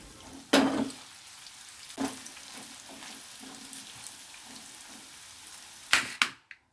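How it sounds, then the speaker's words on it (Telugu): Paneer pieces frying with salt in a pan: a soft continuous sizzle with several sharp spatula scrapes and stirs, louder clattering bursts near the end before it stops abruptly. "సాల్ట్ వేసుకొని వేయించుకోవాలి"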